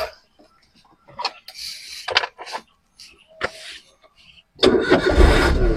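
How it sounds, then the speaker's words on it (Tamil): A Suzuki Alto 800 car, a secondhand example, with a few clicks and short knocks inside the cabin before its engine cranks and catches, then settles into a loud, close idle. "வண்டியை ஸ்டார்ட் பண்ணிட்டோம்."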